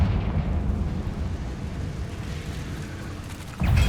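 A Confringo blasting spell bursts in Hogwarts Legacy, a rumbling explosion that fades over a few seconds before a fresh low boom hits at the end.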